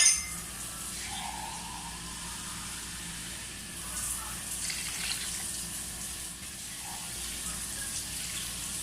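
Water pours and splashes into a metal tawa pan, a steady gushing with occasional clinks, close by and fairly quiet, without talk.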